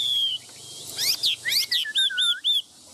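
Songbirds, apparently caged pet birds, chirping in a run of sharp, high tweets and short whistled calls, close and bright, with a few clipped repeated notes toward the end.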